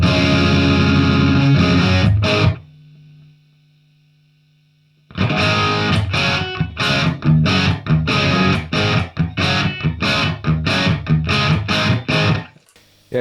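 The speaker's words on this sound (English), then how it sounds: "that's some classic Marshall tones" Loud distorted electric guitar plays through a Marshall JCM 800 Studio SC20H tube amp, hitting chugging chords and sharp stabs. A brief pause lets a low sustained note ring before a choppy rhythmic riff resumes close up.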